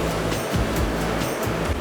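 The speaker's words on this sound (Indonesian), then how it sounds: "Bahkan langsung dihantam gelombang dari laut selatan." Waves from the southern sea crash against sharp, slippery coral rocks, a loud continuous roaring wash with surging pulses and no voices.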